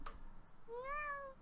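A pet cat named Milo gives a single clear, rising-then-falling meow, close and fairly faint, with a short thump just before it and no talk.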